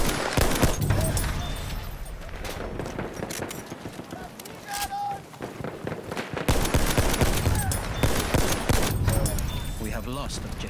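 Dense Battlefield 1 gunfire crackles nonstop, with rapid machine-gun fusillades and sharp single shots up close, loud throughout, while a player talks over the shooting.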